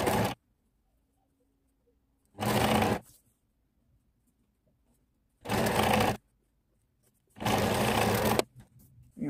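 A sewing machine stitches along the edge of a fabric machine cover in four loud, close bursts of fast, even whirring, with near silence between them.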